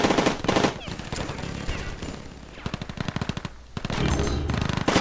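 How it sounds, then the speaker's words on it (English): Rapid automatic gunfire from the iOS shooter game Rivals at War Firefight rattles in dense repeated bursts, loud and close, with brief pauses between volleys. "Chasing him down, shooting him in the back."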